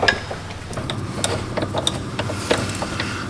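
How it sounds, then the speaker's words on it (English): A car jack wound up by hand, giving a series of close, irregular metallic clicks and ratchet ticks over a low background hum, with no talking. "Jack it up."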